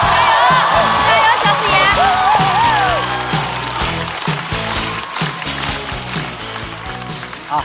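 Audience at a stand-up comedy show cheering and clapping to welcome a comedian onstage, a loud, sustained crowd roar with shouted voices mixed in.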